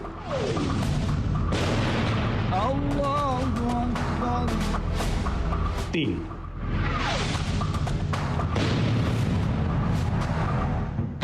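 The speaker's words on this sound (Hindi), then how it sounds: "ताबड़तोड़ 3 रॉकेट धमाके" Deep booms of rocket explosions in the Afghan war around Kabul thud repeatedly amid whooshes and rumbling, loud and layered beneath a voice talking over them.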